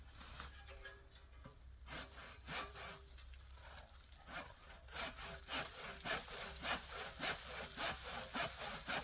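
Hedge trimming in an overgrown French garden, heard as a string of rhythmic rasping cuts through woody branches that grow steadier and louder in the second half, close and with no talk over it.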